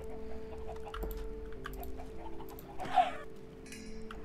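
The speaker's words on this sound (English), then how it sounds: "coming up here just gives me an absolute headache because of all the chickens" Chickens cluck in the Minecraft video game, a soft, scattered string of short clucks over a steady ambient game hum with no talk.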